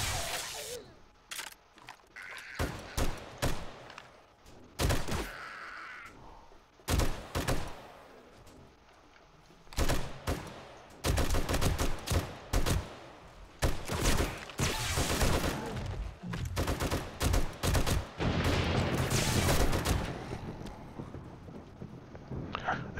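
Bursts of gunfire mowing down zombies in a tunnel during a Blood Moon horde in the video game 7 Days to Die, irregular volleys and single shots with quiet gaps, no talking.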